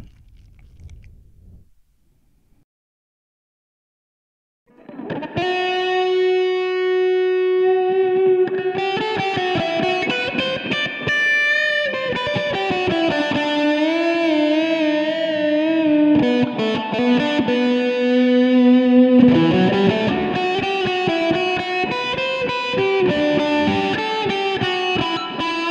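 Electric guitar through a Roland Micro Cube amp with reverb engaged: after a few seconds of near silence, loud, distorted sustained notes and chords ring out with a lingering wash, played continuously.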